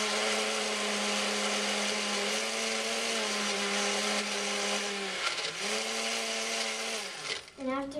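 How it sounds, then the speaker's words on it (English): A blender crushes ice for a banana smoothie, a loud steady motor whine running almost without pause, its pitch sagging briefly under load near the end. "And then you might want to turn like the ice crusher."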